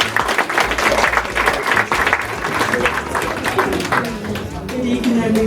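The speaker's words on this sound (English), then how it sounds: "Give her a hand clap as she comes along." Loud, sustained applause from a crowd at a Christmas dinner event welcomes a speaker, a busy wash of many hands clapping with chatter and voices mixed in throughout.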